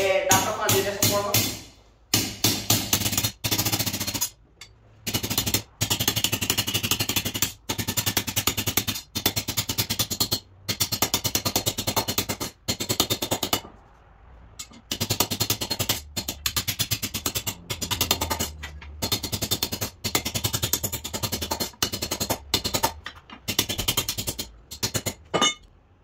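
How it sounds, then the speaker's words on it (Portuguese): Arc welding an iron plant pot stand gives a loud, steady crackle close by, broken into long stretches by short pauses and fading a little near the middle. "então agora é só soldar, tá vendo?"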